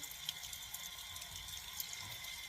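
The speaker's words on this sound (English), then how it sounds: "I'm going to put a little water on this." Water splashing and trickling onto aquarium glass during cleaning, a steady close wash with small drips throughout.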